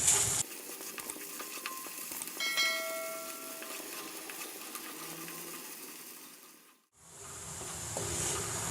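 Onion with garlic and ginger paste roasts in a pan for a chicken masala, a soft steady sizzle with faint stirring and a few light metallic rings, close but quiet, no talking.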